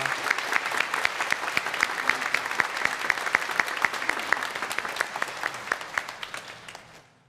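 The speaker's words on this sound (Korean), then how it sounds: "우리 박수로 환영해 주시면 감사하겠습니다" A church congregation at a Sunday service claps steadily to welcome a visiting group from a church in the Philippines, a dense, even round of applause that tapers off near the end.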